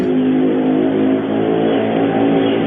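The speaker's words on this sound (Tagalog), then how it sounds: "Ay motor pang dumaan." A motorcycle rides past, its engine giving a loud, steady drone that stays level throughout with no voices.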